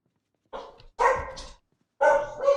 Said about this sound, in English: My dog is not gonna give us... he's gonna give us some bark treatment.